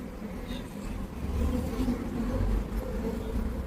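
Honey bees buzzing around an open hive while it is being smoked, a steady dense drone that swells louder midway and holds, close by with no talking.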